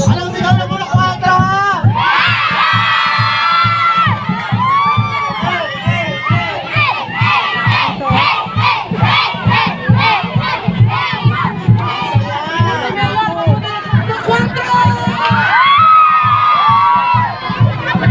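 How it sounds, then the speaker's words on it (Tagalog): Residents of Purok 4 in Subic, Zambales, shout their group cheer as a large crowd. Loud, rhythmic chanting and whooping swell and continue without a break, close up, with scattered individual yells on top. "Anong sigaw na purok 4?"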